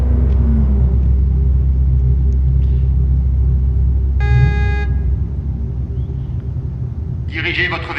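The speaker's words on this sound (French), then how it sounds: "Ah, la voiture a commencé à lâcher," A failing car engine in Cyberpunk 2077 sputters with a loud, steady low rumble that weakens partway through, broken by a short horn-like tone and a brief burst of higher clatter near the end.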